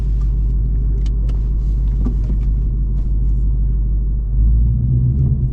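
A Ford Mustang S650 GT V8 rumbles steadily while cruising, a deep continuous drone inside the cabin that swells louder near the end as the throttle opens.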